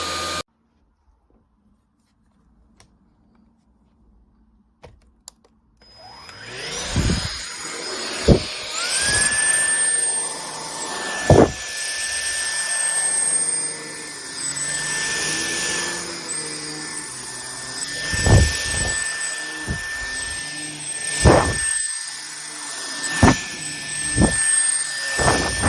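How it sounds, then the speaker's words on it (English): Tefal X-Force Flex 14.60 cordless stick vacuum cleaner starting up after near silence, then running with a steady high whine, with loud knocks and bumps over it as it is moved around. "So I'm really pleased with my vacuum."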